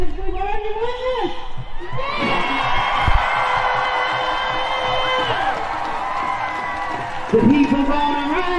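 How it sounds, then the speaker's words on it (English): A large crowd at an outdoor Minnesota Capitol protest rally against the Line 3 tar sands pipeline lets out a long, loud sustained yell and cheer, whoops rising over the roar for several seconds. "so I want you to give out a big yell as if we were your witness."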